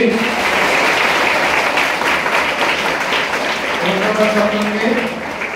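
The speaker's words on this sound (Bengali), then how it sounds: "সকলের প্রাণপ্রিয় আমাদের উপস্থিত তাদের জন্য একটা করতালি" Applause for guests at a school assembly held for student captains: steady, dense clapping from a large crowd throughout, with some voices mixed in.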